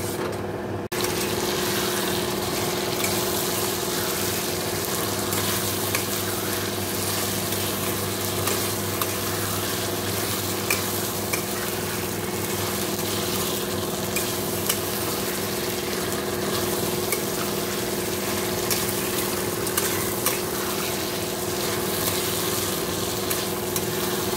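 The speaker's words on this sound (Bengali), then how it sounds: "দেখো মশলাটা দিয়ে দিয়েছি, ভালো করে কষে নেবো।" Spices stir-fried in a pan for a Bengali home-cooked dish, a steady close sizzle and hiss that runs unbroken for over twenty seconds, with a low hum beneath and no talking.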